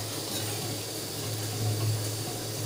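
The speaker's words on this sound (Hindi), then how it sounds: "It's time to put the remaining rajma water." Remaining rajma cooking water pours steadily into a pan of rajma masala gravy, a continuous close wash of liquid with a low hum beneath and no talking.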